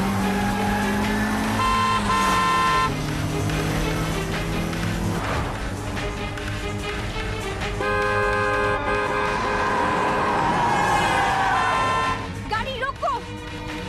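A car moves through busy city traffic as several horns honk in long and short blasts around it, with engine hum underneath and voices talking over the din.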